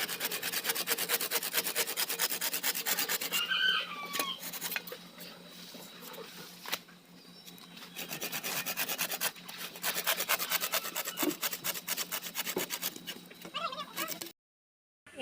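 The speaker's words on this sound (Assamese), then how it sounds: "আৰু এতিয়া চুঙাটো কাটি লওঁগৈ" A small bamboo tube being cut by hand to cook pork in, giving a steady rasping, rubbing stroke rhythm at close range for about fourteen seconds, then stopping abruptly; faint background sounds, no talk.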